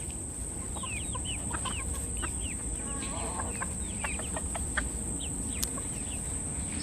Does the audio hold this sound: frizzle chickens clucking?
yes